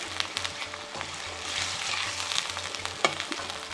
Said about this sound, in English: Stir all that in there.